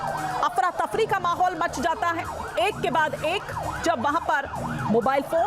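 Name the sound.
emergency vehicle sirens after pager blasts in Lebanon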